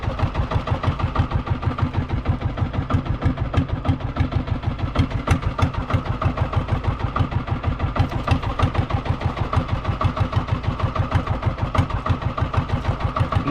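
A fishing boat's engine runs steadily at sea, a rhythmic mid-pitched chugging thump repeating evenly and close by throughout, with no talk over it.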